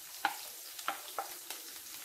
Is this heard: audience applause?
no